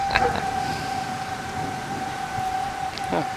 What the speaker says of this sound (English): I'm trying to hear the sirens.